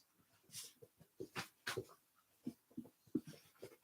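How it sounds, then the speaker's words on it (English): A young dog whimpers and whines in short, uneven bursts, with soft snuffling breaths between the cries, close to the microphone. "I had to let my pup out real quick. She was making crazy sounds"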